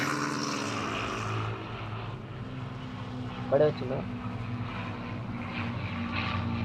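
Airplane flying in the mobile game Talking Tom 2, a steady propeller-engine drone, with a person talking over it.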